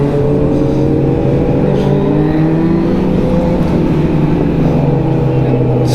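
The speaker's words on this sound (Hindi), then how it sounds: "जो 10R है अतुल भैया की भाई, वो तो एरो जो है वो उनका एग्जॉस्ट खुला ही रहता है, और जो आवाज़ है भाई वो नेक्स्ट लेवल की" A 10R motorcycle with an open exhaust revs loud and close, its engine note swelling and easing in a steady rumbling drone, with talk running underneath.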